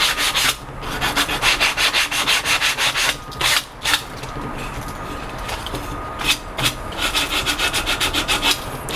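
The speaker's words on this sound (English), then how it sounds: "a little bit of sanding before assembly" Sandpaper rubs back and forth on wood before assembly, a close rhythmic scratching in quick repeated strokes with brief pauses between bursts.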